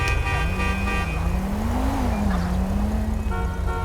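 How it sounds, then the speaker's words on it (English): A car horn honks briefly in GTA V at the start and again at the end, over a continuous droning engine that rises and falls in pitch. "Some stupid biatch was honking."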